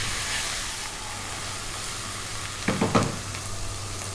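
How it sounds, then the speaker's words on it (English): Spices sizzle and fry in hot oil in a pan for an Indian fish curry, a constant close hiss with a few scraping stirs of a spoon near the end. "Keep it stirred all the time, otherwise your spices are going to burn and they will taste bitter."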